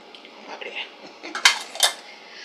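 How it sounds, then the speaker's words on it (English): Breadcrumbs, Parmesan and cheddar cheese being mixed in a bowl for a garlic cheddar chicken bake, heard as soft scraping and a few sharper clinks of a utensil against the bowl, close and brief with no talking. "I'm going to mix 3/4 of a cup of breadcrumbs, half a cup of the Parmesan cheese,"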